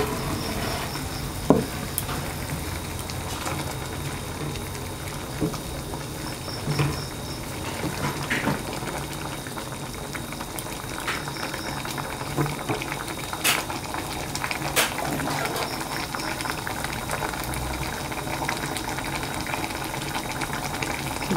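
Pabda fish curry with mustard and poppy seed simmering in a pan, a steady low bubbling and gentle boil that continues evenly throughout with a few faint clicks and no talking.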